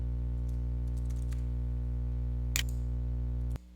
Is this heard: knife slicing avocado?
no